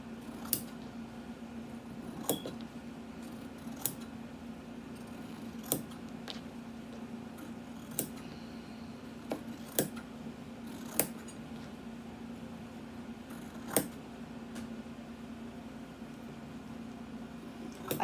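Scissors snipping around fabric pattern pieces on a table, a series of sharp, separate cuts spaced a second or two apart over a steady low hum, close and fairly quiet.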